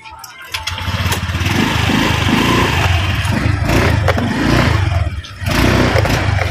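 A motorcycle engine runs steadily close by with a low, throaty idle and slight revs, mixed under several people talking in Filipino outdoors.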